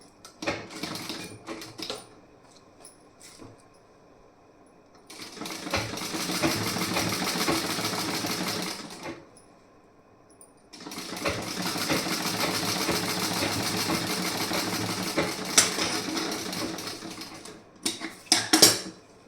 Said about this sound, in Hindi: यहाँ भी आपको इस तरीके से स्टिचिंग करना है।